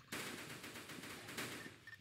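Video game gunfire in an SCP match rattles as sustained automatic bursts of rapid shots, fairly quiet and a little distant, running steadily for about two seconds with short pauses.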